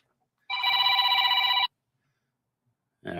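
An incoming call rings on a telephone: one sustained electronic ring burst of about a second, then silence before a second ring starts, clear and close.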